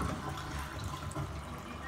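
Running water rinses a dog during a bath, a steady continuous splashing flow that stays loud and close throughout, with no voices over it.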